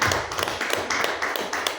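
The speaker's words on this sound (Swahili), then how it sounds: "Mpe Mungu kwanza makofi mazuri" A church congregation gives a round of applause for God, producing a quick run of crisp, close claps with an uneven rhythm over the full length; no talking.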